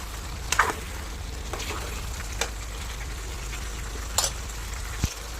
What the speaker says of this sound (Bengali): এবার আলু ফ্রাইটা আর চিংড়ি ফ্রাইটা দুটোই দিয়ে দেবো। এটা দিয়েও ভালো করে একটুখানি কষিয়ে নেবো